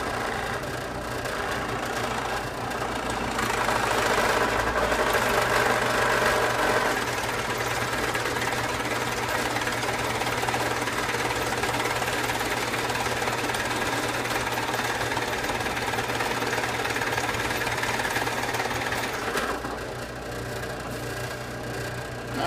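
A steady mechanical whir of a drill press running continuously, a dense buzzing motor drone that swells slightly as the bit bites in, with no talking.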